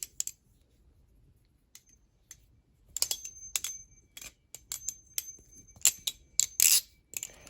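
A balisong butterfly knife flips and scissors in quick bursts of sharp metallic clicks and clacks, sparse at first and then denser and louder, close up with no voices.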